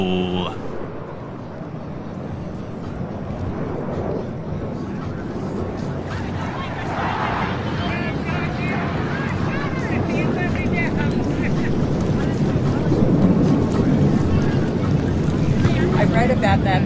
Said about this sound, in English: Now watch from your left as our lead solo, Major Scholl, maintains level flight while performing the challenging slow roll.